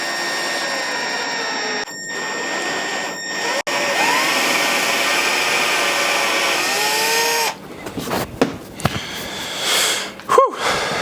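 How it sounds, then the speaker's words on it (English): A power drill whirs steadily for several seconds as it bores into wood, then stops; afterward come scattered clicks, rustling and handling noises. "Let's try and drill the other 2."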